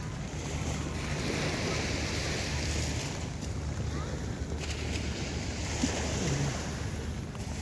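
Steady wash of wind and water around a small boat, with a constant low engine-like hum and lapping waves; no talk, just continuous outdoor noise.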